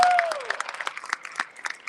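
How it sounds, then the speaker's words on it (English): Audience applause at a datathon opening ceremony, a scattered burst of clapping that thins out over two seconds, with a brief voice at the very start. "Let's give a round of applause for them."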